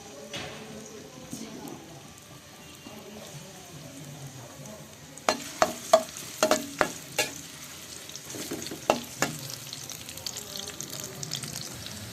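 Boiled new potatoes are stirred and fried in oil with ginger, garlic, salt, turmeric and chili powder, a steady sizzle broken by a run of sharp spatula knocks against the pan, close by with no talking.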